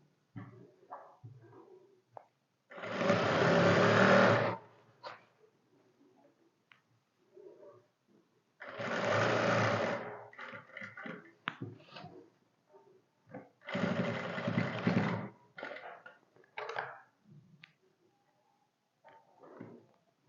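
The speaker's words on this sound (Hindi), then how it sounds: "ये हमने यहाँ से सिलाई शुरू की थी और हमारी जो है यहाँ पे ही सिलाई ख़त्म होगी।" Sewing machine stitching a shirt, running in three separate bursts of a couple of seconds each, with quieter handling and fabric sounds in the pauses between.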